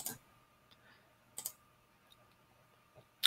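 Computer mouse clicking while tracing points on a sketch, a few sharp isolated clicks spaced about a second or more apart against a quiet, faintly humming room.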